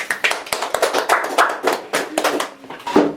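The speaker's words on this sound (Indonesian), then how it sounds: "Mari tepuk tangan." A small group claps for a child's finished paper-mask craft in a children's class, quick uneven claps forming a short, close, lively burst of hand clapping.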